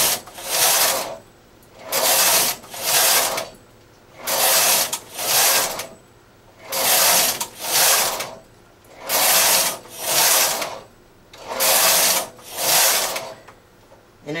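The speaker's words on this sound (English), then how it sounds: "knit two rows, push the next one back, knit two rows, push the next one back" A knitting machine carriage sliding back and forth while knitting short rows, a loud rhythmic series of about eleven rasping whooshes at steady intervals, close up and alone.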